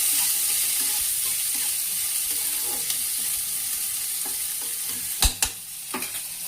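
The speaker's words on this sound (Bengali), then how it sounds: "ভাজা হোক পেঁয়াজটা।" Onions sizzle in a frying pan, a steady close crackling hiss, with a few sharp utensil clicks and scrapes near the end.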